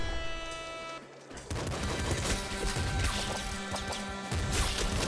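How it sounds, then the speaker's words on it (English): Rapid pop gun fire in the Nuclear Throne video game: a steady stream of quick, loud shots mixed with game effects and impacts, with a brief dip before the firing resumes. "Machine gun? No, that's a pop gun."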